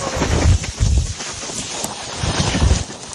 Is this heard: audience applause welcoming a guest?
no